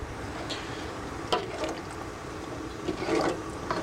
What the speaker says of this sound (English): Looks like a good amount of water for right now.